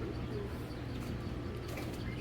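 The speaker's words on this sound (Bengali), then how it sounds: "এগুলো সব ক্রস করা রেস করা কবুতর" Crossbred racing pigeons coo softly and steadily in a loft, a low continuous murmur with faint chirps over it.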